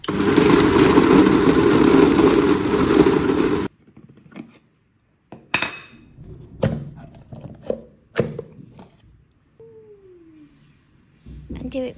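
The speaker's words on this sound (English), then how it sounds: "Then put the pork in the blender." A blender minces raw pork that has been washed with salt water, giving a loud, close, steady whir for about three and a half seconds before cutting off abruptly. Quieter clatter and knocks of handling follow.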